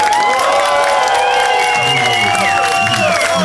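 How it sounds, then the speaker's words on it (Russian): Crowd at a bikers' rally in Uman, 2014, cheering and applauding during an embroidered-shirt (vyshyvanka) contest, with loud sustained whoops and shouts filling the whole stretch, close and dense. "Дадим нашему казаку в черной вышиванке аплодисменты, Сузуки."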